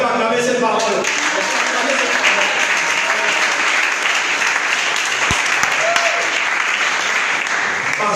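A church congregation breaks into sustained, loud applause during a Sunday worship service, the clapping dense and steady throughout with a voice briefly heard at the start.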